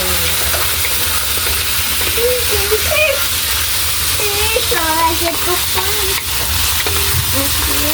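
Chicken liver adobo sizzles loudly in a pan while being stirred, a steady close hiss and crackle with scraping, and faint voices speak in the background.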